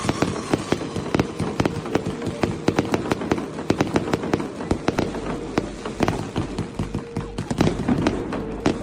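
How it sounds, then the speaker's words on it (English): Howling fireworks set off in a dense barrage of sharp crackling bangs and pops, rapid and irregular, loud and close throughout. "Howling fireworks."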